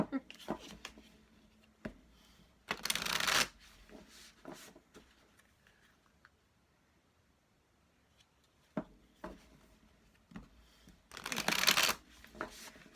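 A deck of pick-a-card reading cards is shuffled in two brisk bursts, one early and one near the end, with quieter handling and soft rustles between them.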